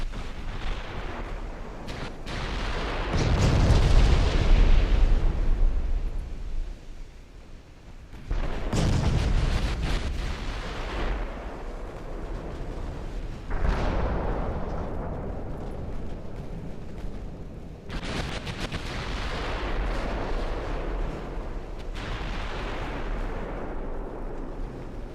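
Naval 14-inch guns firing in the Ultimate Admiral: Dreadnoughts warship game, loud deep booming salvos rolling out every few seconds, each rumbling and decaying into a sustained low roar, with no talking.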